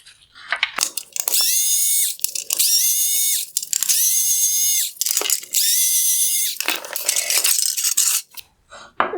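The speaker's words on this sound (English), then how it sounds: "I will now remove the 4 T15 Torx screws holding on the LED drive unit" Removing T15 Torx screws from a 2016-2020 Tesla Model S LED headlight, driver turning them loose from the LED drive unit on the reflector: several sustained, close whirring bursts of a powered screwdriver separated by brief pauses, with no talking.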